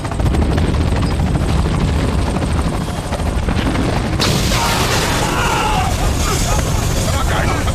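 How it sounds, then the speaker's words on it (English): A helicopter in a sci-fi movie, its loud rotor thudding and turbine roar filling the scene continuously, with a sudden burst of added noise midway and shouting voices mixed underneath. "take him to the chopper"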